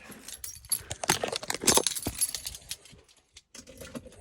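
A bunch of keys jangles loudly up close just after being pulled from a vehicle ignition, a busy metallic rattle that settles into near silence.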